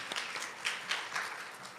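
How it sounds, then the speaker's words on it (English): Brief, light audience applause at a women's healthcare conference awards presentation, a scattered patter of claps that sounds fairly distant and thin over a short stretch. "A round of applause, please."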